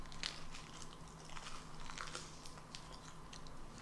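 Quiet, close chewing and soft lip-smacking from someone eating a cockle bibimbap, made up of scattered small wet clicks and crunches against a faint steady background hum.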